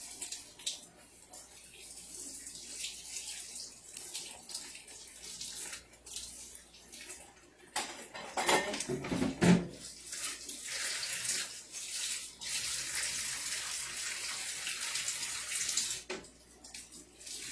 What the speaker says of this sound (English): I need to wash one of these knives again because I'm going to need it